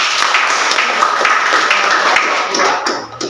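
A classroom claps for a student's answer. The dense, even applause from many hands carries close and loud for about three seconds before thinning out at the end.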